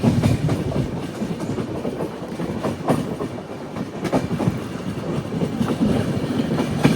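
Local train passing on a parallel track near Arakkonam Junction, a loud, close, continuous rumble with rapid clickety-clack wheel beats throughout, no voices.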